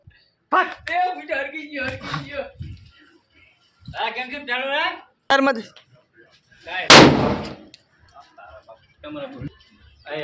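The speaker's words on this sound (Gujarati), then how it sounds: "ફાઇનલી હવે મરચી બોમ્બ ફોડવાનો" One sharp, loud chili bomb firecracker bang goes off during Diwali between stretches of people talking, with quiet pauses before and after the blast.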